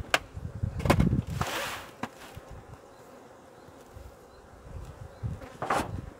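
Honey bees hum around a beehive, a soft continuous buzz under louder bursts of blowing and handling noise up close, with the drone persisting faintly between them.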